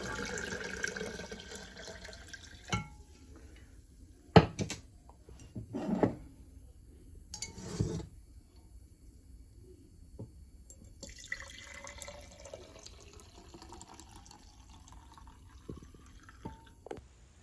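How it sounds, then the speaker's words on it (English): Water from a red cabbage pH indicator mixture pours back into a blender in bursts, with splashy pours and scattered drips between quieter pauses and no speech. "Now I'm pouring the water back into the blender"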